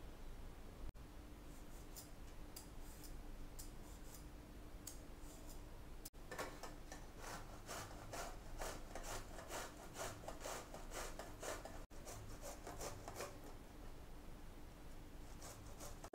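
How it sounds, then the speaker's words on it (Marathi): Peeled bottle gourd (dudhi) rubbed across a grater in quick, steady rasping strokes, faint and close, with a brief pause now and then. "आता आपण दुधी साल काढून खिसून घेऊया"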